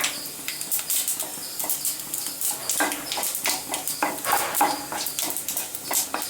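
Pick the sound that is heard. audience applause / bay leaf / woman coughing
bay leaf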